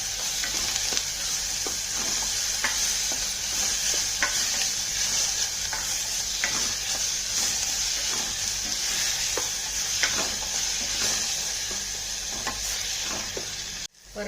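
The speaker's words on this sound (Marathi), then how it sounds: "परतलं गेलं बघा सगळ्या भाज्या" Sweet corn, spring onion, tomato, carrot and chilli stir-fried over a full gas flame, giving a steady loud sizzle with repeated scraping stirs throughout, alone with no talk.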